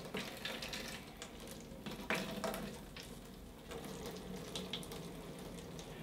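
Coolant water gushing out of an opened stop plug on a PC water-cooling loop reservoir, a steady faint splashing trickle with small clicks and clatter throughout.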